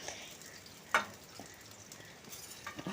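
Faint, even sizzle of potatoes and vegetables frying in a kadai for khichuri, broken by a sharp clink of metal near the start and light scraping toward the end.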